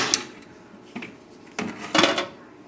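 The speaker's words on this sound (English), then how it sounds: "we'll get everything that's in here using a soft spatula" A soft spatula scrapes avocado and potato salad from a bowl in a few quiet, separate scrapes and knocks against the dish, close by, with no talking.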